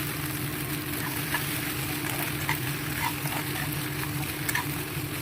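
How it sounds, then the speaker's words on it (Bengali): Pasta being stirred into spices in a hot pan on a home stove, a continuous close sizzle with light scraping stirs throughout and no talking. "এরপরে পাস্তাগুলো দিয়ে দেব। ভালোভাবে মশলাগুলোর সাথে পাস্তাটা মিশিয়ে নেব।"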